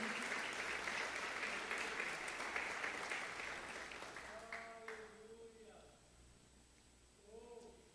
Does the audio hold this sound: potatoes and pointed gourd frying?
no